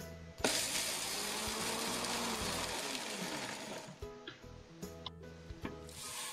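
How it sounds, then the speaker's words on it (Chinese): A high-speed blender grinds roasted peanut pieces: a loud, close motor roar runs for about three and a half seconds, then stops and restarts in several short pulses. "我准备的是30克熟花生碎，倒入破壁机中打匀"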